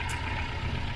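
Datsun Stanza L20B engine idling near 1,000 RPM with a slight lump from a lumpy camshaft, a close, loud, steady low rumble filling a single second.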